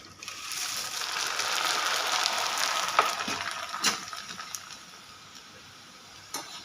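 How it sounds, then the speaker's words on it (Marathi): Corn poha flakes fry in hot oil with a steady, soft sizzle and hiss, broken by a few brief splutters and stirring clinks, gradually easing toward the end; no one speaks. "आता आपण मक्याचे पोहे तळून घेऊया"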